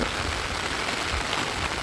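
Steady rain falls in cold, dark weather, a dense, even hiss with soft patters filling the short stretch without any voices.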